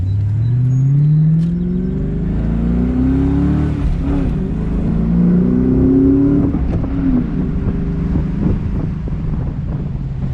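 A car fitted with a BBK 73mm throttle body and cold air intake accelerates, its engine note rising and falling through two revving pulls, loud and close with some wind noise.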